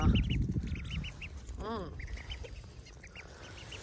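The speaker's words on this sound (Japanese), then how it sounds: "アヒル可愛いっすよ、マジで。" Ducks quack repeatedly outdoors, a series of short nasal calls spread through the scene over rustling background noise, with a brief murmur from a person.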